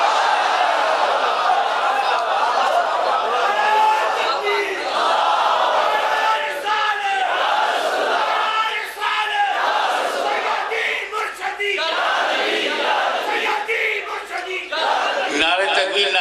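A crowd at a religious gathering in Pakistan chants the Nara-e-Takbir slogan, a loud, sustained mass of shouting voices rising and falling in repeated waves.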